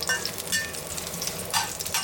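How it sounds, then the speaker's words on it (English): Sliced ginger sizzling in hot oil in a wok over medium heat for Chinese braised beef, a short continuous frying hiss with a few soft bursts, close and unbroken. "heat oil in a wok over medium heat and add in ginger"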